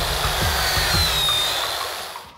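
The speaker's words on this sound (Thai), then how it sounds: "การเจาะนั้นนะคะจะไม่ใช่การเจาะแบบแนวขวางแต่จะเจาะให้เอียงทะแยงเข้าไปในเนื้อไม้ค่ะ" Power drill boring diagonally into the trunk of an agarwood tree, a steady high-pitched whine close by with low knocking thuds underneath, continuous for a couple of seconds.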